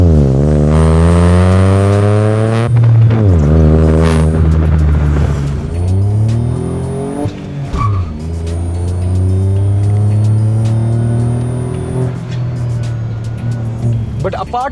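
A Stage 3 tuned N Line car drives on a road, its engine rising and falling through repeated revs and gear changes, loud and close from inside the cabin.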